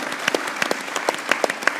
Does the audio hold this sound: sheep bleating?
no